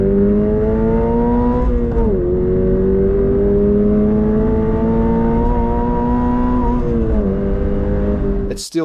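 A stroker engine revving freely up toward 7,000 RPM, a loud, close, steady harmonic engine tone that climbs, dips briefly around two seconds and again near seven, then cuts off abruptly at the end.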